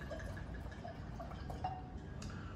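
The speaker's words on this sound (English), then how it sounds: "Now let's pour this wine." Wine pours into a glass with a soft, quiet trickle and small gurgling splashes that rise in pitch as the glass fills, heard close up in a calm room.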